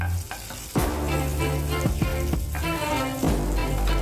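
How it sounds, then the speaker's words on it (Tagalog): Olive oil and butter heat in a frying pan with a steady sizzle and spatter, broken by a few soft clanks of cookware, close and continuous. "antayin lang natin medyo uminit yung olive oil and then yung butter"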